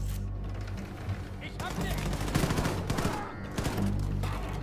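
Rapid bursts of video game gunfire crackle through a dense, chaotic firefight, overlapping shots and mechanical clatter filling the whole clip with steady loud intensity, while a voice talks over parts of it.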